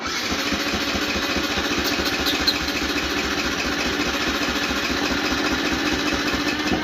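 A Yamaha YZF-125R sports bike engine runs on petrol poured straight into the throttle body, holding a steady, close rumbling idle throughout with no voices.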